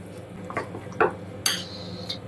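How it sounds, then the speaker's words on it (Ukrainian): A utensil stirs melted chocolate with odorless sunflower oil in a bowl, giving a few scattered scrapes and clinks against the dish, fairly close and with no talking. "розтоплюємо його, додаємо соняшникову олію без запаху і швиденько перемішуємо"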